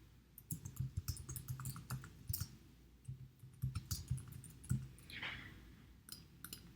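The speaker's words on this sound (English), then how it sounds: "type in the name of your course." Quick, uneven bursts of clicking from a computer keyboard as someone types in a quiet room, with short pauses between keystrokes.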